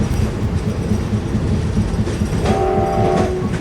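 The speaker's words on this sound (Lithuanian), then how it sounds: "pati nuostabiausia muzika man yra tai traukinio dunksėjimas" A train rumbles steadily along the rails close by, a loud continuous roar of wagons with clattering wheels, and a brief horn-like tone sounding near the end.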